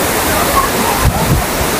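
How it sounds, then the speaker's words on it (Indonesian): Curug Cikondang, a waterfall about 15 meters high, roars as a steady, dense wash of close, loud rushing water, with a voice faintly mixed into the noise. "Jadi curug itu air terjun ya, mungkin tinggi air terjunnya sekitar 15 meter."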